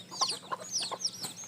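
Native Bangladeshi deshi hens cluck in a steady run of short, close calls over a faint background hum, with no voices.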